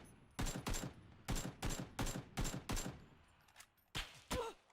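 Gunfire from the PC battle royale game PUBG comes in a run of loud, sharp bursts repeating at a steady clip, with a few scattered shots trailing off at the end.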